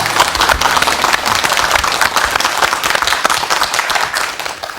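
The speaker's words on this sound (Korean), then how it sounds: "여러분 큰 박수로 맞이해 주시면 대단히 고맙겠습니다." A studio audience gives loud, sustained applause to welcome a guest onto the stage of a Korean television talk show, dense clapping from many hands that holds steady for several seconds and fades slightly at the end.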